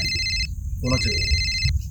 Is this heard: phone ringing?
yes